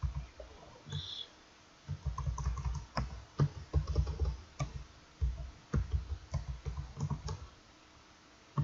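Computer keyboard typing in quick bursts of clicking keystrokes with short pauses between, close and clear with no talking.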